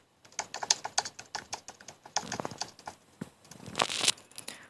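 Keyboard typing sound effect added in the KineMaster mobile editor: rapid, irregular key clicks and clacks in bursts with brief pauses, close and crisp, with no voices.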